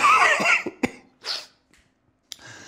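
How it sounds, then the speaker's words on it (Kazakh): A man who has been told he has tuberculosis coughs harshly several times in short, close, loud bursts separated by brief silences, with a faint throat sound at the end. "Мына жөтелім мынау, қалай мен саумын аға?"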